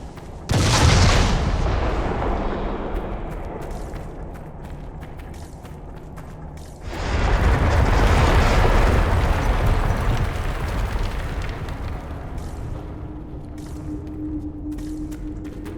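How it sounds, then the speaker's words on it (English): Explosives blow up in Dragon Age: Inquisition: two loud booming blasts, the second longer and rumbling, each followed by a fading roar of debris, with no voices. "We saw the Kunari make these things explode. Maybe we can use them to get out of here."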